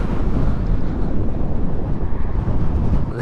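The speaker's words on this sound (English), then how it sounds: "so windy outside" Strong wind gusts buffet the microphone outdoors beside a dual-motor off-road electric scooter, a loud, continuous low roar with no pauses and no talking.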